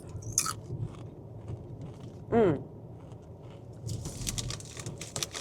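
A light, airy, crispy snack bitten and crunched close to the mic, with a brief crunch near the start and further crackly chewing toward the end, over quiet room sound.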